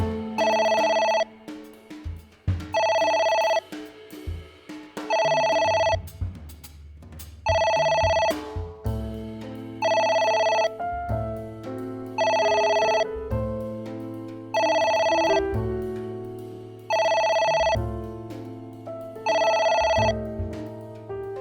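Telephone ringing in the video game AI: The Somnium Files, a loud electronic ring repeating in about nine regular bursts over a low musical backdrop, with no talk.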